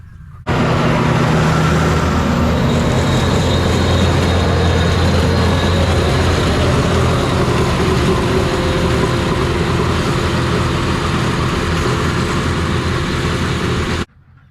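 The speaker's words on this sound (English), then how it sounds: "That thing you just saw, that's the mower conditioner, the moco. That's being pulled by the tractor." A tractor pulling a mower conditioner through a hay field for horse hay makes a loud, steady mechanical drone with engine rumble and rattling machinery, constant from start to finish and then cutting off abruptly.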